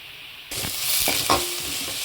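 Onion, a green chili and crushed garlic go into a hot pan, setting off an abrupt loud sizzle followed by scraping stirs and bubbling fry, close and without voices.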